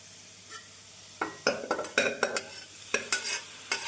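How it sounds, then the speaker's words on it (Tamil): Radish and peas stir-fried in a pan over a medium flame, a steady low sizzle punctuated by a quick series of loud, close spatula scrapes and clinks. "நாம் மீடியம் ஃப்ளேமில் வைத்து முள்ளங்கியை நன்றாக வதக்க வேண்டும்"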